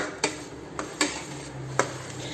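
Pazham pradhaman being stirred in a pot, with a few light spoon knocks against the metal rim spaced irregularly over a soft, steady background hiss.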